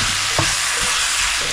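Chicken added to a hot pan with ginger and garlic and stir-fried, a loud continuous sizzle with a few sharp scraping stirs of the spatula.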